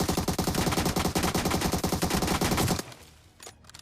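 Rapid automatic gunfire in the mobile battle royale game BGMI, a loud sustained burst of evenly spaced shots that stops abruptly, leaving a quieter tail with faint game ambience.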